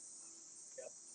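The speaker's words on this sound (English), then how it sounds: "And that's the cicadas singing their song." Cicadas drone in a steady, high, unbroken buzz on a very hot day outdoors, faint and continuous with no pauses, alone without talk.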